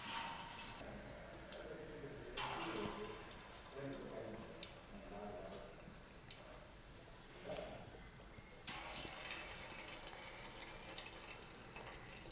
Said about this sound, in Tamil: எண்ணெய் சூடாச்சு, இதை பொறிச்சு எடுக்கலாம்.